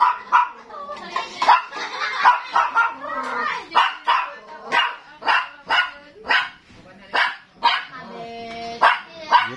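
A small dog yaps in rapid, high-pitched bursts, a dozen or more sharp barks in quick succession close by, with a few whiny yips mixed in.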